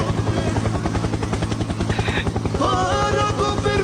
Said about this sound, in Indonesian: Maka saya harus luncurkan dulu helikopter untuk Ustadznya ini